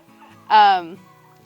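A backyard turkey on a homestead porch gives one short, loud gobbling call, rising abruptly and ending within half a second against a quiet background.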